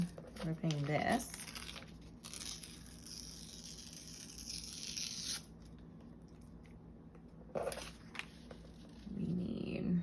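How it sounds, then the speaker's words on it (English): Paper is torn in bursts of crackling rips, with crinkling and a pause between them while someone talks in between. "let's go ahead and continue ripping this."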